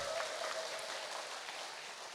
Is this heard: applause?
yes